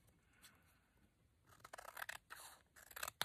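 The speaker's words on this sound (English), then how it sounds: "I gotta get this glue off my scissors." Scissors handled while glue is cleaned off the blades during a watercolour lap book craft, starting faint and then snipping and scraping in quick, close bursts, with no talking.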